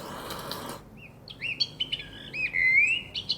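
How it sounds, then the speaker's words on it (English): Birdsong recording played back through a Tribit home speaker: bright, high chirps and warbling tweets in quick, irregular phrases, clear and moderately loud after a brief burst of noise at the start, no talking. "Birds chirping."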